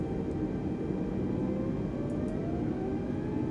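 Aircraft engines in Microsoft Flight Simulator 2020 hold a steady, moderately loud whirring drone while waiting for takeoff at Gatwick, with a faint tone slowly rising in pitch throughout and no talking.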